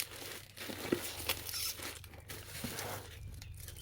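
Plastic packaging around flower bulbs crinkles and tears in short bursts, close and fairly quiet, with a few sharp rips amid softer rustling.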